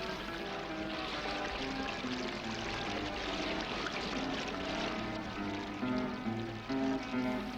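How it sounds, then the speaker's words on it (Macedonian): Fast mountain river, the Tresonechka, rushing over white stones between pastured mountains, a steady broadband roar of churning water held under tonal background music throughout. "бистрата вода на Тресонечка река бучи преку белутраци"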